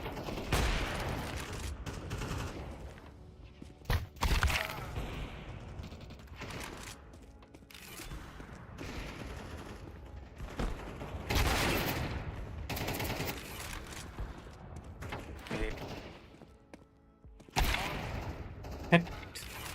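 Gunfire rattles through a Counter-Strike 2 match, loud bursts of rapid automatic shots and single cracks arriving in uneven clusters over twenty seconds, with game effects and occasional talk mixed in.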